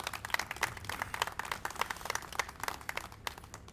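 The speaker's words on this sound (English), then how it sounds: "we want to give them a great round of applause" An audience at a ceremony for the Reggie Oliver Foundation gives a round of applause, scattered individual claps heard fairly faint and at a distance, continuing steadily.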